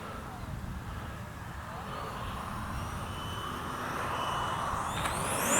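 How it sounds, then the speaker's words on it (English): A Freewing 64mm F-22 RC jet with an outrunner motor whines steadily as it flies in to land, its faint, smooth drone growing gradually louder as it approaches. "That outrunner sounds really good in this one"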